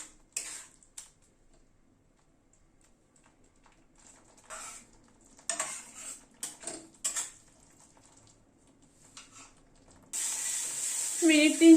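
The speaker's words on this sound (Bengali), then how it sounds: "গ্যাসের ফ্লেমটাকে মিডিয়ামে রেখে মশলাটাকে ধীরে ধীরে কষাবো।" Spice masala being stirred and fried in a pan over a medium gas flame for an egg curry: a few quiet clinks and scrapes, then a steady sizzling hiss that swells loudly at the end.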